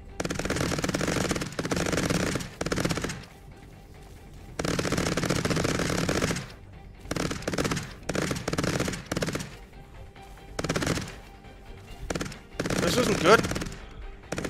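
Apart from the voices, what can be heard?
gunfire from Cepheus Protocol video game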